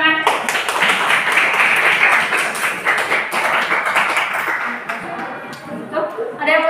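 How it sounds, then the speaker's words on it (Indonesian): Students clap together in a classroom, a sustained burst of hand applause lasting several seconds that thins out toward the end, with light chatter and laughter underneath. "Tepuk tangan."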